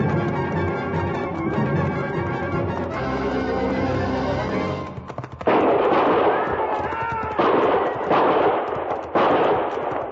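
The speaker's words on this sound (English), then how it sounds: "I knew from the sound of that first volley what had happened" Gunfire volley sound effect in a western frontier radio drama, several sharp, dense bursts of shots cracking out in quick succession after rumbling hoofbeats and horse noises.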